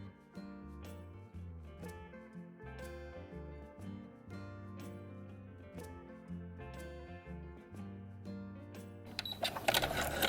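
A sewing machine stitches a cuff onto the sleeve of a Star Wars jumpsuit, a quiet motor hum broken by a run of regular needle clicks, then a short burst of louder clatter at the end.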